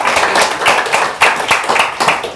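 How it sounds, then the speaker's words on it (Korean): Audience clapping to welcome a speaker at a Korean afternoon lecture on healthy change management, a steady, dense patter of many hands that swells and recedes in waves across the room, with some voices mixed in. "박수로 환영하겠습니다"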